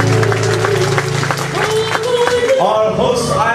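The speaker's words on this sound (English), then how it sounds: "please give a warm round of applause for the royal court of our canoe pageants." Audience at a canoe pageant in Hawaii applauding for the royal court, steady clapping mixed with crowd voices and cheering.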